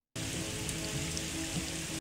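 Steady rain pours down in an outdoor Forrest Gump film scene, a dense, even hiss of drops hitting surfaces that continues without a break, with no talk.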